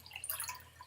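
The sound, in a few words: cold water poured from an empty Lagavulin 8 bottle into a glass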